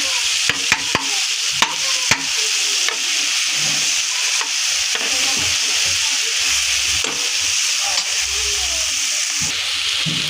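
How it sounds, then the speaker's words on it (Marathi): Spoon stirring okra curry with tomato, onion and spices in a hot pan, a steady frying sizzle running throughout with a few sharp clinks of the utensil against the pan near the start. "मिक्स करून घेऊया आपण ह्याला"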